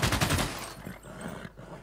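Bursts of machine gun fire from a Civilization 6 battle, barbarians attacking machine-gun nests, rattling loudly for the first half second and then continuing as thinner, more distant gunfire.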